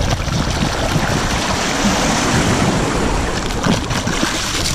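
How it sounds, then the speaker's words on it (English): Ocean waves wash steadily onto the shore of a remote tropical island, a loud continuous surf roar with wind buffeting the microphone and no talking. "Go down here, I'm gonna wash it in the ocean."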